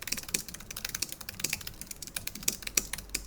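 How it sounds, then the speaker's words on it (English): Soft, rapid typing on a quiet low-profile keyboard at a desk, an uneven patter of light key taps that is close but faint, with no voices. "I actually prefer the lower profile keys for typing out like long video scripts like I do often"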